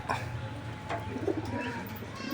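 Pigeons coo softly nearby over a low steady background hum, with a few brief rustles and bird calls scattered through.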